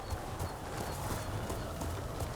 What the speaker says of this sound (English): You're a good horse, Noble.